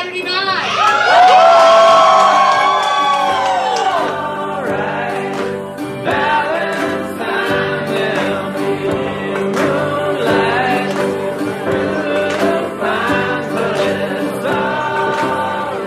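Crowd in a small-town gay bar cheering and whooping loudly, with shouts and yells rising and falling in waves and scattered voices calling out over the noise.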